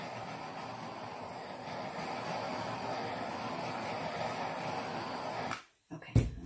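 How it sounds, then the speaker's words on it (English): A torch flame roars steadily and close over a resin-coated trivet, a continuous broadband hiss that cuts off abruptly near the end, followed by a brief clatter. "I'm going to torch this."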